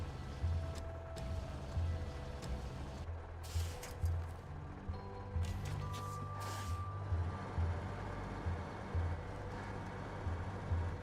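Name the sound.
truck with 963 engine reversing, from the video game SnowRunner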